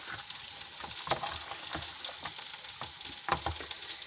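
Vegetables fry in oil in a pan that was nearly dry, for a summer salad. A steady, soft sizzle carries frequent small crackles and pops throughout, with no voices.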